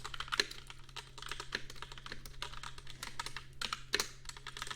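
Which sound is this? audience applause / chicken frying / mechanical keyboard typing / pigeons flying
mechanical keyboard typing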